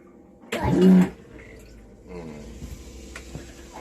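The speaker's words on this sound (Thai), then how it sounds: "ชักโครกเป็นของเรือยอทเป็นของเครื่องบิน แล้วก็กดน้ำตรงนี้" A yacht- or airplane-style toilet in a vehicle flushes with a loud rushing whoosh lasting about half a second, followed by quieter gurgling and draining sounds.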